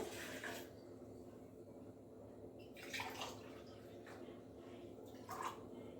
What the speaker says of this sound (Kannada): ಅರ್ಧ ಗ್ಲಾಸು ನೀರನ್ನು ಹಾಕ್ತಾಯಿದ್ದೀನಿ